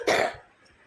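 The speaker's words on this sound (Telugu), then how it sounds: "నాకు ఈరోజు ఫుల్ దగ్గు వచ్చేస్తుంది." A single short, sharp cough from a boy during a Roblox gaming session at home, loud and close, quickly fading into quiet.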